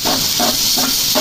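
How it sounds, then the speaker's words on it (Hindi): Green chili paste goes into frying ginger and garlic, producing a loud, close hiss that surges in four rhythmic pulses, as if stirred. "अब हम इसमें ये हरी मिर्ची का पेस्ट डाल देंगे।"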